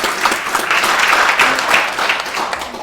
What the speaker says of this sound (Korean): 우리 뜨겁게 한번 우리 자찬에 박수 한번 하고 시작을 해볼까요?